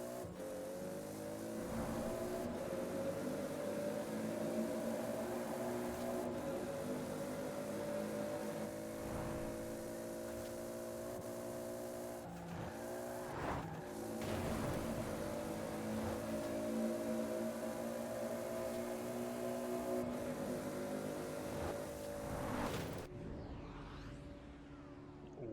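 A tuned Toyota Supra's engine in a racing video game roars at sustained high speed, steady harmonic drone with brief shifts in pitch, loud and continuous without talk until it cuts off near the end.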